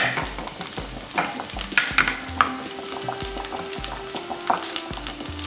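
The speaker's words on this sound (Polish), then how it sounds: "Teraz wrzucam tutaj wcześniej pokrojoną cebulę." Chopped onion sizzling in olive oil in a pan, a close, steady crackle with scraping stir noises and light clinks, with music faintly underneath and no speech.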